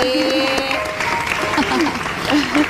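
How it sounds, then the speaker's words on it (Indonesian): A small studio audience on a gossip talk show claps, a busy patter of hands running under talking and a sustained sung or hummed tone. "Tepuk tangan dulu dong"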